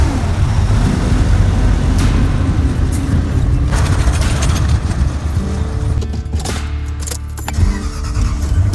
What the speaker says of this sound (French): Là ce que vous entendez c'est les camions australiens.